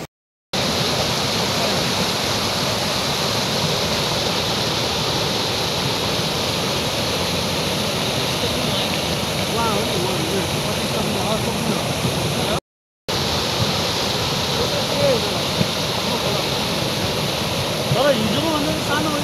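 A river swollen by flooding rushes past in a constant, loud roar of water that barely changes for the whole stretch, broken only by two short silent gaps.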